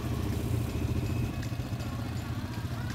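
A quad bike engine rumbles and chugs close by on muddy terrain, loud and throaty with slight rises and falls, clattering as it runs.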